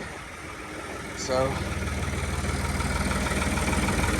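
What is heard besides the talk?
tractor engine running in cold weather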